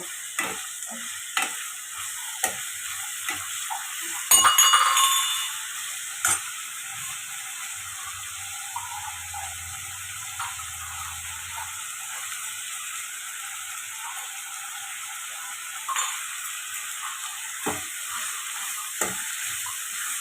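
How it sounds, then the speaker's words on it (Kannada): Mint and coriander leaves frying in oil for a sprouted green gram sambar, a quiet steady sizzle with scattered light stirring clicks and a brief louder scrape near the start, no talk. "ಇದನ್ನು ಎಲ್ಲ ಚೆನ್ನಾಗಿ ಎಣ್ಣೆ ಫ್ರೈ ಮಾಡಿ ಇಟ್ಕೊಳ್ಳಿ"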